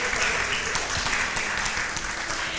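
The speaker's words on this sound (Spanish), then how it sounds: "Un aplauso por la vida de Laurita." A congregation claps for Laurita at a Spanish-language church gathering, a dense, steady applause that stays loud and continuous for the whole stretch with no talk over it.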